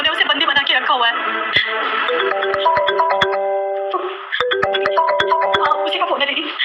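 A phone's ringtone plays a repeating melodic chime for an incoming call, loud and near, with voices talking over it throughout.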